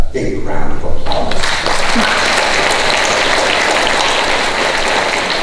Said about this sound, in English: all candidates deserve a big round of applause